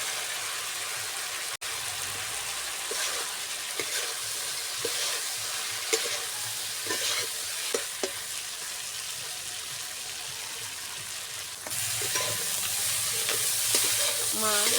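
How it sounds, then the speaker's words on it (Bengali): Fried fish is stirred into onion and spice masala in a pan for a Bengali fish curry, with a continuous close sizzle and scattered scraping stirs that swell louder toward the end. "এবার ভাজা মাছগুলো দিয়ে দেবো।"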